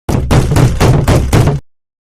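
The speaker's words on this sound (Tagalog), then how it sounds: "Sunod-sunod na malalakas na katok sa pinto" Loud, heavy knocks pound on a door, five hard close blows in a steady rhythm that then stop abruptly and leave silence.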